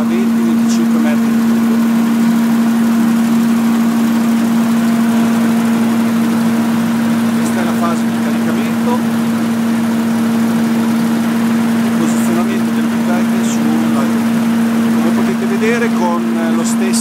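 A truck engine runs steadily while powering a pneumatic pump mounted at the rear for unloading wood pellets, a loud constant hum with a strong droning tone, and someone talks over it throughout.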